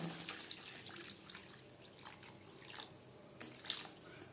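Water poured into a pan of spice-fried potatoes for a Bata fish curry; a faint splashing trickle with a few louder splashes toward the end, soft and close.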